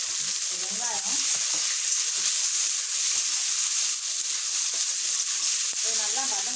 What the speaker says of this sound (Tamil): இது நல்லா வதங்கட்டும். ஸோ வெங்காயம் வந்து நல்லா வதங்கிடுச்சு.